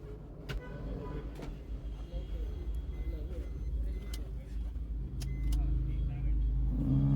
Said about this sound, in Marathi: आपण आता गाडी स्टार्ट केलेली आहे